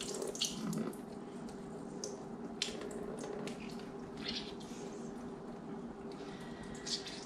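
Liquid draining from an opened can of off-brand tuna into a sink, a steady soft trickle and splash of water with faint drips, close and moderately quiet with no talk.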